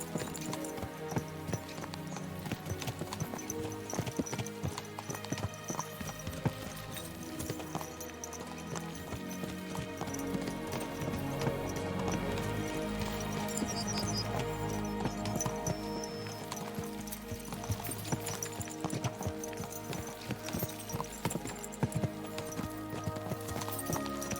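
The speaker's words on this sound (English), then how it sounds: "Let's really spur these horses on, eh?" Horses galloping in Kingdom Come: Deliverance II, a fast, continuous clip-clop of hooves with an occasional whinny, loud and close over game music and ambience.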